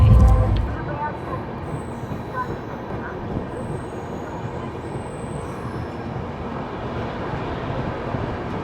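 A passenger train runs near Tundla junction, heard from inside a coach as a continuous rumbling roar of wheels on track, with a louder low thump at the very start and faint squeals and clatter throughout.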